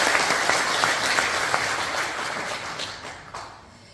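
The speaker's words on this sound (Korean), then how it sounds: "다시 한번 감사의 박수를" Audience applause at a Daegu lecture ceremony marking an association anniversary, a dense, steady clapping from a crowd in a hall that fades gradually toward the end.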